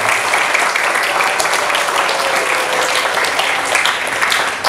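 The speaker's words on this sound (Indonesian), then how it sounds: "Tepuk tangan sekali lagi untuk kita bersama." Loud, sustained applause fills the hall at a school orientation closing ceremony, a thick continuous roar of many hands clapping at a steady level from start to finish.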